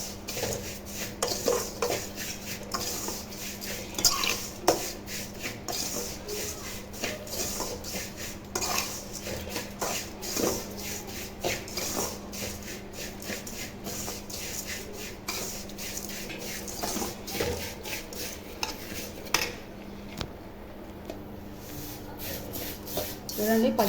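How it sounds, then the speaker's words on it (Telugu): Vermicelli is stirred as it roasts in a pan, a spoon scraping and clinking against the metal in quick irregular strokes, close and continuous, with occasional background noise. "సేమియా పచ్చివాసన అంతా పోయేంత వరకు ఇలా కలుపుకుంటూ ఉండాలా."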